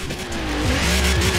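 A Golf 4 GTI with twin exhausts drifts on a wet road in Forza Horizon 4, its engine droning loud and steady while the tires squeal and skid throughout.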